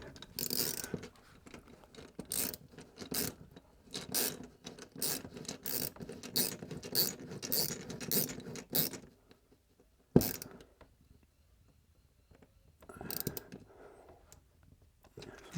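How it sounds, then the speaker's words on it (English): A hollow wall anchor is screwed into plasterboard, producing a run of close ratcheting, clicking turns for several seconds, then a pause, a single sharp click, and a short final burst of tightening. "The type of screw fit I'm going to try in here now is just one of these hollow wall anchors."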